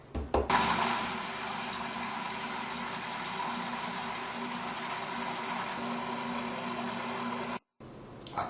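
A food processor whirs steadily while blending hollandaise sauce with melted butter, a constant loud motor drone with a watery churn that runs for several seconds and then cuts off abruptly near the end.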